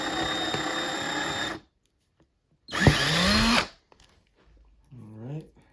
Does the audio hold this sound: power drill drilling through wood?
yes